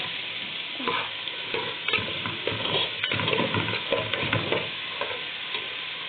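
Rice fries in ghee with onion in a pot, a continuous close sizzle broken by repeated scraping stirs of a utensil against the pot.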